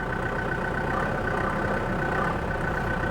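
A Cummins diesel engine in a manual-transmission Ford F150 pickup idles with a steady low rumble, constant and close, with no talk over it.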